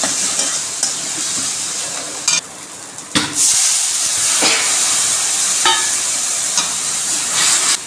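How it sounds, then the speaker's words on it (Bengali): Onion fried with coconut paste and chili paste sizzles loudly in a pan, a bright continuous hiss cut by a few sharp scrapes and clanks of stirring, close up with no talking. "এখন আমি দেব নারকেল বাটা। নারকেল বাটা দিয়ে দিয়েছি, লঙ্কা বাটা। এটা দিয়ে ভালো করে কষিয়ে নেব।"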